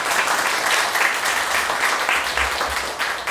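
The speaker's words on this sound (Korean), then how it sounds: "박수 한번 부탁드립니다." Audience at the close of a conference panel session applauds, a dense, continuous patter of many hands clapping at steady loudness for a few seconds with no talking.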